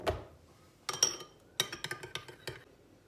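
Spoon stirring cream into lemon juice for a lemon cheesecake, scattered light clinks and taps of metal against a bowl in short irregular bursts, close and fairly quiet.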